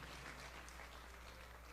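A church congregation applauds together in steady, sustained clapping that fills the room at an even volume, with no voices rising above it.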